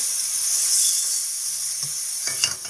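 Potatoes cook covered over a low flame, giving a steady close sizzling hiss with a few small clinks near the end and no voices.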